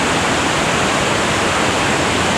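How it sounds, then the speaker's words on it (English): Glacial meltwater river rushing beneath the Mendenhall Glacier, a loud, steady broadband roar of churning water that fills the whole stretch without a break, close and alone with no voices. "I'm walking on a glacial river underneath the Mendenhall Glacier."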